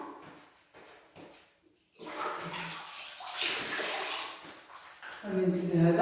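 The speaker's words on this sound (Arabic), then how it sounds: "غادي نرشوا دابا غير بشويه الماء" Water is sprinkled across a room while cleaning a child's new bedroom, giving bursts of splashing and spattering, with someone talking nearby.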